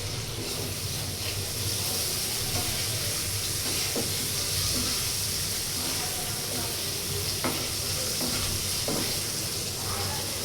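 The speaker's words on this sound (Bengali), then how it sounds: "মাছ দিয়ে মটরশুঁটি দিয়ে রান্না করব, তাই মাছটা আমি ভাজিয়ে নিতেছি" Fish sizzles and spits steadily in hot oil in a pan, a dense continuous hiss with occasional small pops and stirring scrapes, close and loud throughout.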